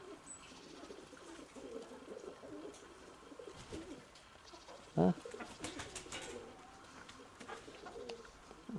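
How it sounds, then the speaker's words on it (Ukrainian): A male and female pigeon coo softly in repeated low, throaty calls, fairly close, with a brief single-word voice breaking in midway. "Це голуб і голубка, до речі."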